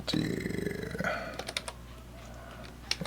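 Typing on a computer keyboard, a dense burst of rapid key clicks followed by a few scattered, louder keystrokes, close up and alone with no talking.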